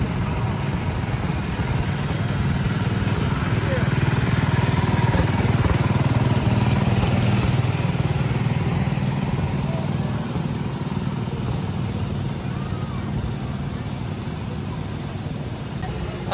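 An antique car ride engine at Knoebels amusement park, running beside the Phoenix roller coaster, putters with a steady low mid-pitched drone close by, holding constant throughout with faint background ambience.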